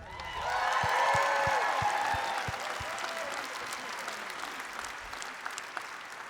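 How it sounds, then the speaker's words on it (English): Audience applause at a Farm Aid 2019 press event, a broad wash of clapping that swells in the first second, peaks, then slowly thins while staying steady, with scattered louder claps and faint voices under it. "Dave and Neil, I think Carolyn beat you on the applause meter"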